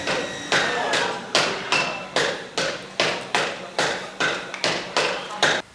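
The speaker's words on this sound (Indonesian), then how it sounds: "Setelah dilebarkan lagi mulai pakai palu pencu, pembuatan pencunya itu" Iron hammers strike a bronze gamelan gong while shaping its raised boss, about a dozen sharp metallic blows landing at a steady, slightly uneven rhythm, each ringing briefly before the next.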